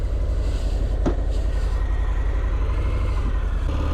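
A Harley-Davidson Fat Bob motorcycle being ridden, giving a continuous low engine rumble with road and wind noise for several seconds and no talk over it.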